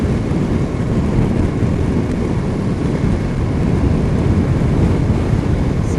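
Steady rain and wind rush blanket a motorcycle ride on a BMW R1200 near Pikes Peak, Colorado, a constant loud broadband roar with no break and no clear voices.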